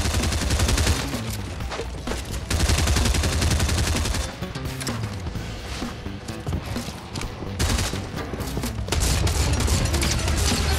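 Dense Fortnite gunfire fills the scene, with rapid repeated shots and heavy blasts in bursts and almost no gaps, loud and close throughout.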